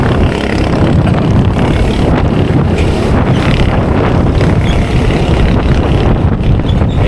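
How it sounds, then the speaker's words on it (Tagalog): Strong wind roars across an open boat on the water on the way home to Navotas, a loud, unbroken buffeting rush that fills the whole stretch with no talking. "Lakas ng hangin."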